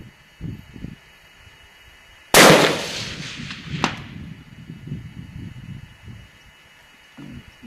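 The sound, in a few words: long-range rifle shot, Norma 6.5x284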